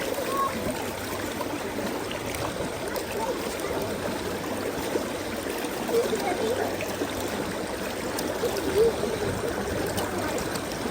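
Water runs and trickles steadily while leftover gold prospecting material from a river in Connecticut is rinsed out, a continuous close washing and splashing sound at an even level with no clear speech.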